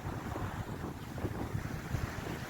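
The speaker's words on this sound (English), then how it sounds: "Now, it's very windy as well." Strong wind on the shore at Talacre buffets the microphone with low rumbling gusts, a constant roar over faint surf, with no voices.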